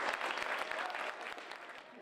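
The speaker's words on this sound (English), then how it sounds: "So a round of applause for all these great kids." An audience claps for schoolchildren at a carpentry challenge event, brisk, dense applause with some individual claps standing out, strong at first and easing slightly toward the end.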